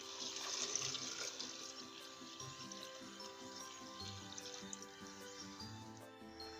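Water pours and flows steadily from a tap-like stream into a container, used to fill drip-irrigation bags for chilli plants in the dry season, a continuous close splashing with faint drips throughout.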